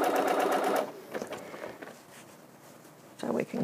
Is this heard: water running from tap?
no